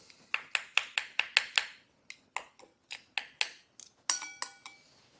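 Utensils clink rhythmically against a bowl while Thai dry egg noodles are mixed with crab meat, a quick run of bright taps followed by slower, spaced clinks and a ringing knock near the end, close and alone.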